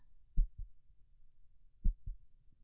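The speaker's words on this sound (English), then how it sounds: "Can you hear my heartbeat?" A slow heartbeat is heard up close, two soft low lub-dub thumps about a second and a half apart, against quiet background hiss.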